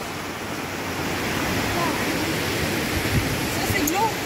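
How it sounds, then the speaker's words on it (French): Steady broadband rush of river water flowing past a bank, close and even throughout, with faint voices in the background. "on vient d'arriver à la rivière"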